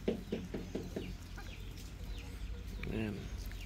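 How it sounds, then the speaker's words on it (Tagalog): Hens, a crossbreed of Kabir and native chickens, cluck in short repeated bursts close by, with a louder squawk near the end over a steady low background hum. "Yung mga manok natin guys oh"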